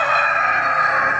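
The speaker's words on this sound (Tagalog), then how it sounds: "Pati mga alaga ng manok." A heritage-breed rooster crows loudly and up close in one sustained, strained call that holds steady from start to end, with no other sounds around it.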